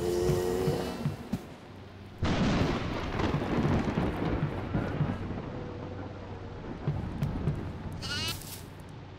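Goat in the horror video game Devour bleating in short wavering cries at the start and near the end, separated by a long low rumbling stretch of dark ambient noise.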